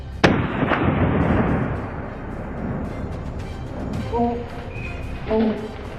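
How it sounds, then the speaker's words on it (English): A rifle shot cracks out once while hunting wild boar in snow, loud and sharp, with a long rumbling echo that fades over several seconds; faint voices and a few brief tones follow. "Without hesitation, a gunshot rang out"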